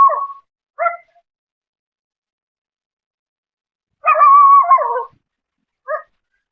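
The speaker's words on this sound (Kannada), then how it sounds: "ಕೆಳಗೆ ಬಗಳತ್ತ ನೋಡ್ರಿ ಅದು ನಾಯಿ ಹಂಗೆ" A dog near a hillside stone-crushing factory barks in a few short yips, then lets out one longer, howl-like bark and a final yelp, with quiet gaps between, heard at a moderate distance.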